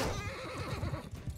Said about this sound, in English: Oh, my horse!